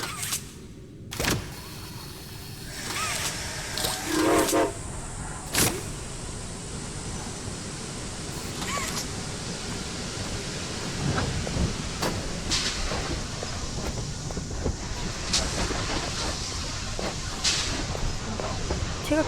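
A train ride in the video game Poppy Playtime Chapter 2 gives a steady rumbling hiss with occasional sharp knocks, running throughout beneath some talk.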